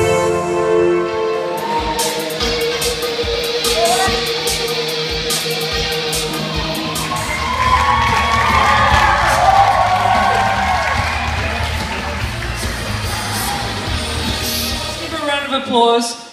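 A crowd of children cheering at an award ceremony, a mix of shouts, whoops and clapping that swells in the middle and rises again near the end, with talk mixed in.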